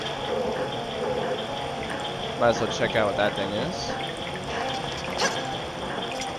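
Water runs continuously through a video game temple, a soft steady flow with a few drips, while someone talks over it in the middle.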